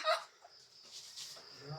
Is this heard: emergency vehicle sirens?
no